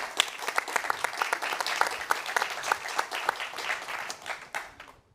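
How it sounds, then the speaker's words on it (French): A conference audience applauds continuously at a French e-health industry event, dense steady clapping filling the room before tapering off at the end. "On peut les applaudir."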